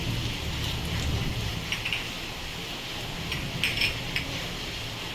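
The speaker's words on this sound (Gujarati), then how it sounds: "તેલ ગરમ થઈ ગયું છે, એમાં આપણે રાઈ જીરું, અડદની દાળ છે, સૂકા મરચાં છે" Mustard seeds, cumin, urad dal and dried chillies sizzle and crackle steadily in hot oil for sambar, a continuous bright hiss with small pops, no voices.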